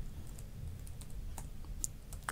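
Typing on a computer keyboard while writing a SQL select statement in a PySpark notebook, a run of light, close key clicks with scattered sharper taps over a low background hum, no talking.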